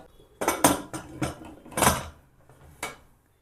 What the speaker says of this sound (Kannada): ಈಗ ಕುಕ್ಕರ್ ಮುಚ್ಚಿಬಿಡೋಣ.